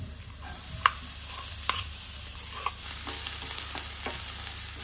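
Ginger and onion sautéing in a pan for an Ilocano sinanglaw make a soft, steady sizzle under irregular taps and scrapes of a stirring spoon, close and moderately loud, with no voices.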